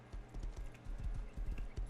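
A horse in the Rust video game trots with rapid, regular clip-clop hoofbeats, close and steady over about two seconds, with no talking.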